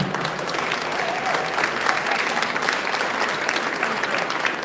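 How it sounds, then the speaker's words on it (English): An audience applauds at a 20th-anniversary celebration event, a steady, dense wash of clapping that holds evenly throughout with no one speaking over it. "Please give a warm round of applause for all those folks that work so hard."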